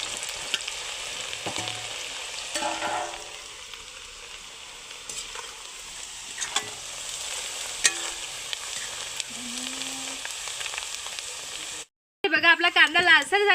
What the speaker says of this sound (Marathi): आता टाकून घेते कांदा तर कांदा व्यवस्थित लालसर होऊ द्यायचा गरम तेलामध्ये टाकायचं